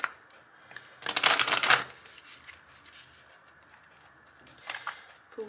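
Tarot cards are shuffled close by in a single riffling burst of about a second, with a fainter second flutter near the end and no talking.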